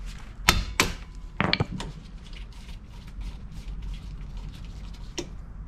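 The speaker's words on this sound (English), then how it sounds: "I'm gonna get our impact screwdriver." A hammer strikes an impact screwdriver set on a wheel bolt of a Chevrolet Spark, giving a few sharp metallic blows close by: two quick hits, then a double hit, then a lone later strike.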